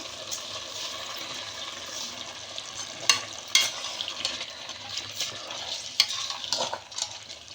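Rice is stirred into chicken biryani masala in a pot, giving soft wet scraping and sloshing with a few sharper clinks of the spoon against the pot over a low sizzle, close up and without talk.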